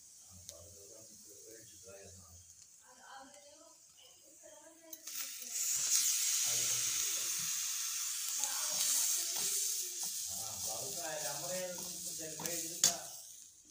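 Chilli powder for a dried fish head chutney sizzles in a hot pan, a soft hiss that swells partway through and continues beneath a person speaking.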